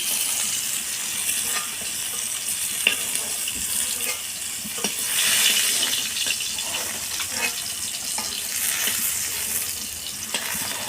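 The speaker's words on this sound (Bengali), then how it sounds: "পটলটা ভাজা হয়ে গেছে, আমি এবার উঠিয়ে নেব।" Pointed gourd (potol) fries in oil, a dense hissing sizzle that swells and eases, with occasional clicks from the pan, steady and close without talk.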